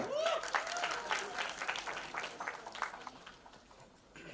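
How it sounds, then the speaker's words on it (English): An audience at a film trailer launch event applauds, a broad wash of clapping with some crowd noise, moderately loud and fading gradually toward the end. "can we have a big round of applause for Satyaraj sir?"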